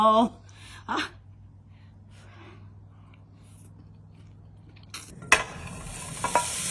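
Bacon frying in a pan without oil, for spaghetti carbonara, gives a faint steady sizzle that swells into louder spattering and stirring near the end, with a person talking over the start.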